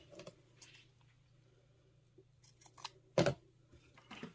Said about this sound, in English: I have one side that's longer, so I'm just going to trim it.